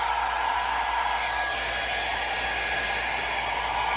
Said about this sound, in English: Hair dryer is your friend when it comes to acrylic paint